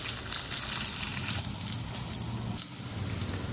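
A handful of small shallots sizzles steadily in hot oil in a pan for Kerala sardine curry. The crackle is continuous and fairly loud, with no talking over it.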